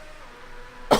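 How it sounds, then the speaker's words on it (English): A single sharp cough bursts out near the end after a moment of quiet room noise. "Again, I apologise for the cough"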